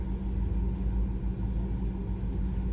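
A Dodge Challenger SXT's engine rumbles steadily from inside the car during a town drive, a deep, continuous low drone with no voices over it.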